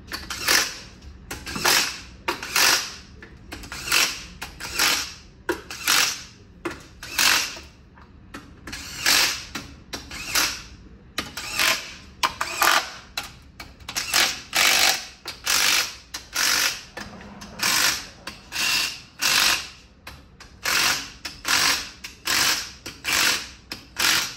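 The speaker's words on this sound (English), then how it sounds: "So we're going to torque this down to 8 foot-pounds too." A torque wrench tightens bolts to 8 foot-pounds on a GM 3.6L engine being prepped for timing chain replacement. Loud, close ratcheting clicks come in rapid repeated bursts with short pauses throughout, and no voices.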